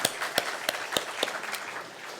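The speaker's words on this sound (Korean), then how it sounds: "다시 한 번 더 우리 하나님께 영광의 박수 올려드리겠습니다" Church congregation clapping in praise after a choir hymn at a Sunday service, heard as a moderate, fairly distant patter with a few sharper individual claps standing out over about two seconds.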